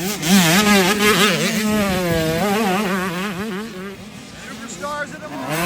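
Motocross bikes at a huge amateur race, with several high-revving engines whining and wavering in pitch as they roar past, loud and close, while a voice talks over them.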